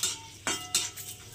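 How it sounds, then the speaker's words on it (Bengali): Chana dal frying in hot oil is stirred with a metal spoon, producing a few distinct close clinks and scrapes against the pan at irregular intervals. "তো ডালগুলোকে আমি একটু ভেজে নেব"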